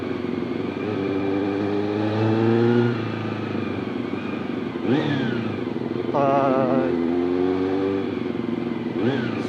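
A superbike engine revs hard and loud, its pitch climbing and falling through several throttle blips, close by and dominating throughout.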